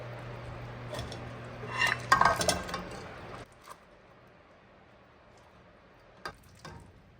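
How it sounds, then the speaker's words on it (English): Cooked gizzards tipped into a strainer, a brief cluster of clattering metal and wet knocks in the middle, then quiet with a couple of faint clinks near the end. "I'm just going to transfer into a strainer."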